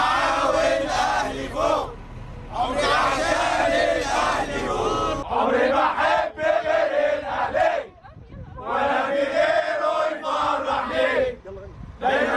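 Al Ahly football supporters chant together in a loud, dense crowd, their massed voices rising in rhythmic surges with brief pauses between waves of singing.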